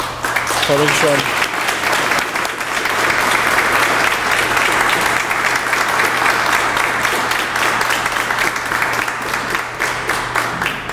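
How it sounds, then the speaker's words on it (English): Sustained applause from an audience honoring award recipients at a Hispanic Heritage Month award event, dense steady clapping that fills the room, with a brief voice near the start. "I think we just a round of applause for their effort."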